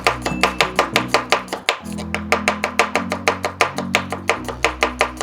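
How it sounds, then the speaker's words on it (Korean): Rapid, regular knife chops through carrot strike a cutting board in a steady rhythm, each a sharp close thud, with no talking. "당근은 칼이 잘 안 들어가요. 그래서 힘을 줘야 되는데"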